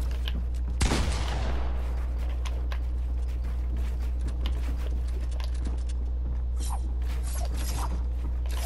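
Gunfire in the video game Fortnite: a sharp burst of shots near the start, followed by scattered lighter shots and clicks over a steady low hum, with no talking.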